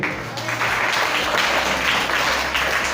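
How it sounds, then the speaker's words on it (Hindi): Pupils and guests in a school assembly room at a lamp-lighting event clap loudly and continuously in praise of a child, a thick, steady wash of applause that fills the space. "ताली बजाइए के लिए"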